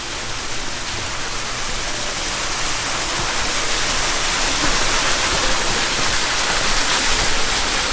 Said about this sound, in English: There's another waterfall over there.